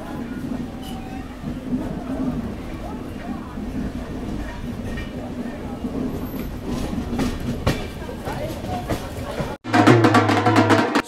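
The Jodhpur-Indore Ranthambhore SF Express rolls along with a steady rumble and rhythmic clickety-clack of its wheels, heard from on board, with voices talking over it and a sudden louder, rougher patch near the end.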